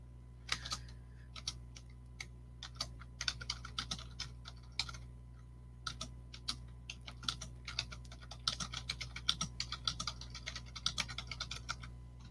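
Close, fairly quiet typing on a computer keyboard: irregular bursts of rapid key clicks with short pauses between, over a low steady background hum.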